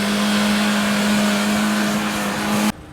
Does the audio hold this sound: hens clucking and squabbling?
no